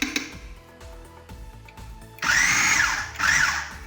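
A mixer grinder whirs loudly as it blends spices, poppy seeds, papaya seeds and garlic-ginger paste, with a steady motor drone, then two surging high-pitched grinding bursts.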